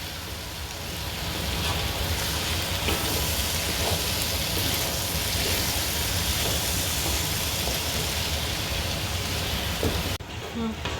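Kuey Teow Goreng noodles stir-fried in a pan for a homestyle dish, with a loud, dense sizzle running continuously for about ten seconds before cutting off near the end.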